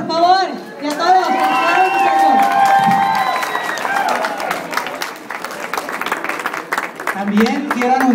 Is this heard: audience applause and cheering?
yes